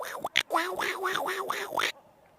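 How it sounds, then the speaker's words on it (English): Duck quack sound effect played during a cricket match broadcast, a loud, nasal series of about six rapid quacks in a row, ending abruptly into quiet. "that duck sound does sound like the duck needs to go to a doctor"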